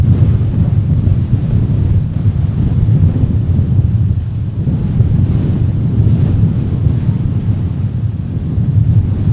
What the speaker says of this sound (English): as the wind continues to assault MSP Airport with its presence